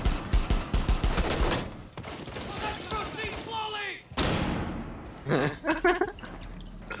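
Bursts of rapid gunfire in Rainbow Six Siege crackle in short volleys, then give way to quieter shots and game effects, loud at first and more scattered later.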